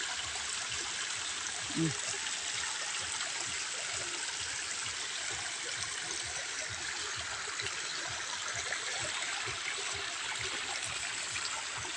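Clear shallow stream flowing steadily outdoors, a continuous close rushing trickle and gurgle throughout with no break.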